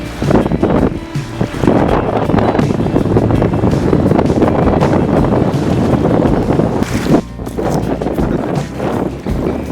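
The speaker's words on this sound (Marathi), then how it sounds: "समुद्राचं पाणी हे वेगाने आत येतं आहे" Seawater rushes into a coastal creek near a secret beach by Ratnagiri, a loud, continuous roar of surging water mixed with heavy wind buffeting the microphone. No voices are heard.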